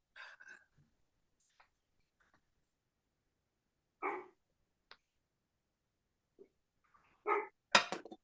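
A dog barks a few scattered times indoors, faint and intermittent, with short sharp bursts separated by long quiet gaps and a louder cluster near the end.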